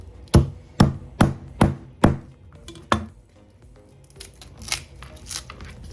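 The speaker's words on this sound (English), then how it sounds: "it's time to slice the garlic and the ginger so we can start the cooking process" A knife chops garlic cloves and ginger on a board, six evenly spaced crisp cuts followed by softer scattered scraping and handling noises, close and with no talking.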